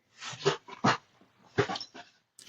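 A pet dog barks and whimpers in short, fairly close bursts with brief pauses, the yips and whines clustered in four or five loud pulses in a quiet room.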